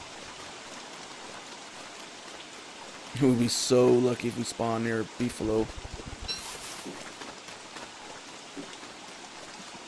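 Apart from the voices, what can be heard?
rain falling, from video game Don't Starve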